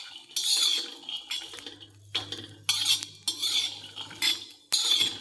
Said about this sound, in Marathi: आता आपण याला 1 मिनिट असं परतवून घेणार आहोत।